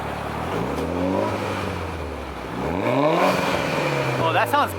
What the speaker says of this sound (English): You know how to rev a manual car.